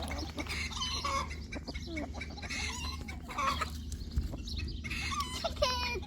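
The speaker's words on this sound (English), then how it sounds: "Chicken!" Chickens cluck repeatedly at close range, with a low steady hum of wind or ground noise running beneath them.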